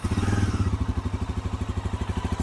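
Bajaj Pulsar NS400Z motorcycle with an underbelly exhaust idles nearby, a steady, even low thump with regular pulses and a slight rise in the first moments, no voices over it.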